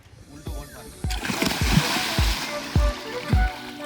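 Bathers splashing in an outdoor water park swimming pool, with repeated sharp splashes and broad watery spray close by, mixed with background chatter and voices.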